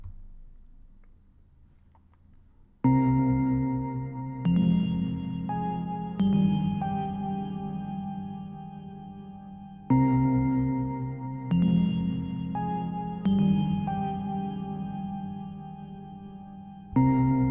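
A melodic and vocal pattern from Twisted Tools Rolodecks played in Maschine: a looping sequence of sustained tonal layers with sharp attacks that repeats after a quiet start.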